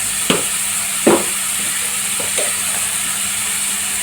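Salted onions sizzle steadily in a hot pan, a continuous close frying hiss with a few light clinks of a utensil against the pan.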